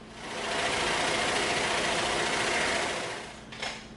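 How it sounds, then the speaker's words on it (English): A power saw cuts a tapered piece of EVA foam on a tilted table, a loud steady buzzing whine that rises, holds for about three seconds, then winds down with a brief rattle at the end. "we're going to cut this on the saw, and it's going to have a nice taper to it"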